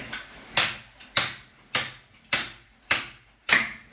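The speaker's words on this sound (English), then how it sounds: "this is how you tighten the air hose on your jack leg" A hammer striking to tighten an air hose fitting on a jackleg rock drill in a gold mine, about seven sharp metallic blows at a steady rhythm, close and fairly loud.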